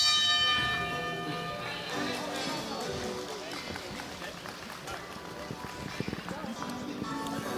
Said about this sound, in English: 10 seconds for the bell.